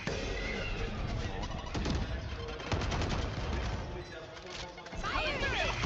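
Showstopper weapon firing in a competitive esports video game match, a dense flurry of shots and impacts mixed with other game effects while a commentator talks over it.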